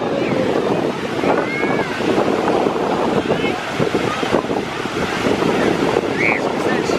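Ocean surf rolling onto a beach, a steady loud wash of breaking waves with wind buffeting the microphone throughout, and faint voices in the background.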